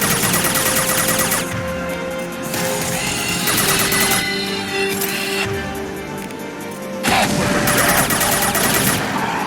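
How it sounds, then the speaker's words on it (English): Heavy gunfire from a high-impact shot in Mass Effect 2 combat: loud, dense volleys of shots and impacts roll on in waves, with brief lulls between the bursts. "Firing a high-impact shot!"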